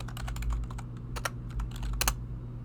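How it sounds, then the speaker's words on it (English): Fingers type on a computer keyboard in irregular bursts of light clicking keystrokes over a steady low electrical hum, close and fairly quiet, with no speech. "I apparently have trouble typing"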